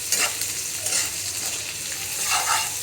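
Onions fry with spice powder in a pan while a chicken curry is being made, giving a continuous loud sizzle with occasional scrapes of stirring and no talking.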